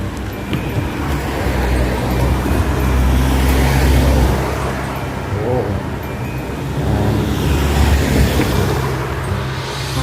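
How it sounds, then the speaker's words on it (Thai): Cars climb the road up to Khun Dan Prakan Chon Dam in Nakhon Nayok, a continuous rumbling engine and tyre roar that swells as vehicles pass close behind. "ก็ยังมีรถตามหลังผมมาอยู่เนี่ย"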